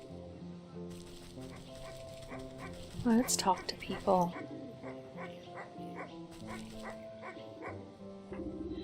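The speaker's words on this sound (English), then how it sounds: "This anxious little dog attempts frantically to get a town guard's attention" Small anxious dog in the video game Wytchwood yips and barks in a few quick bursts over gentle game music, while a person talks briefly.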